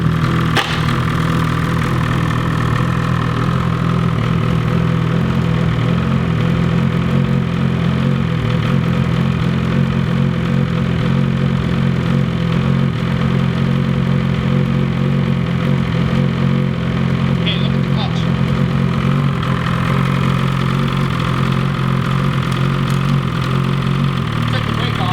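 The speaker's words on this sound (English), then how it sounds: "And we're about ready to start this bad boy up, just to see what it sounds like, and we'll check the engagement speed." A Ski-Doo Gen 5 turbo snowmobile engine idles after a clutch kit install, a steady, loud, close rumble that holds unbroken for the whole stretch.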